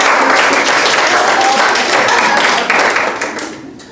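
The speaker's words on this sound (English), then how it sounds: "There should be a round of applause by the entire population of Genesee County for Jackie" An audience claps at a guest speaker talk in a museum, dense, steady applause from a room of people that holds loud and then tapers off toward the end.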